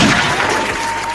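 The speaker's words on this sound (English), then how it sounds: "So round of applause for that." A short burst of audience clapping during a live crypto talk show, loud and dense for about a second before thinning slightly.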